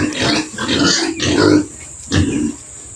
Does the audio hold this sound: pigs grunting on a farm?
yes